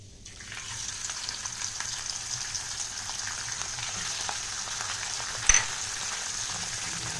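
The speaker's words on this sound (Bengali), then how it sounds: "তো মাছটা ভেজে নিচ্ছি" A hilsa fish head fries in hot oil with panch phoron, giving a steady close sizzle and crackle that starts abruptly and runs throughout, with one brief clatter near the end.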